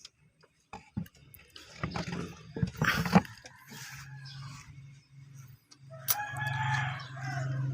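Mixed-breed backyard chickens, a hen and a rooster, cluck and call in short bursts, with a rising crow-like call near the end, close by over quiet surroundings.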